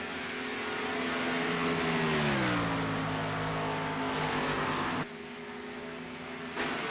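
A pack of stock cars roars around Talladega in a NASCAR racing video game, a steady droning engine whine that sweeps down in pitch and holds, moderately quiet and continuous, with no talk.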